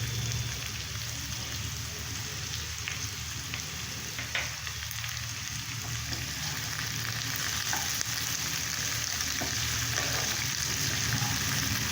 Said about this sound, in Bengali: আলুর সঙ্গে পেঁয়াজটা একটু ভাজবো ভালো করে। এর মধ্যে টমেটো আর কাঁচা লঙ্কাটা দিয়ে দেব।